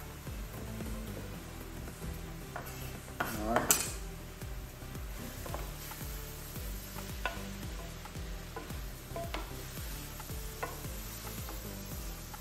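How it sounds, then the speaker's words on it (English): Vegetables for a cornbread stuffing are stirred and turned in a pan, with a spoon scraping and clinking against the metal over a constant sizzle, including a louder clatter early on. "See, I'm trying to turn my vegetables because it's so much, so that the ones on the top cook just as evenly."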